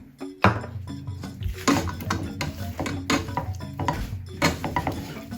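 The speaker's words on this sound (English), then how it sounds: "Give that a good stir around so it's still on the low heat" A spoon scrapes and clinks against a pan while soya chunks are stirred through a thick ketchup sauce over low heat, giving irregular close knocks and scrapes.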